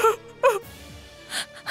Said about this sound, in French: ne pleure pas